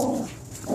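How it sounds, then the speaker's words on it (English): A dog whimpers in two short, close whining bursts with a brief quieter gap between them, in a home where dogs and cats are together. "this dog is getting in the way of Susie getting the animal"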